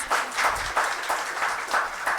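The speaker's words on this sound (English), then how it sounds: "Can we give them a huge round of applause" Audience members at a session of the Bhopal Literature & Art Festival 2025 clap in a steady, pulsing rhythm, loud bursts repeating roughly three times a second with no voices over them.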